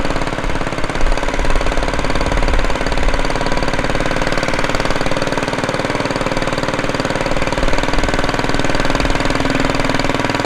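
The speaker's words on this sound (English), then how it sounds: "Let's just take it easy and run it and see how we really have to stress this motor at all." A mud motor on a small, cheap boat runs steadily while heading upstream on a river, a loud, close, rapidly pulsing engine chatter at light throttle that holds an even tone throughout.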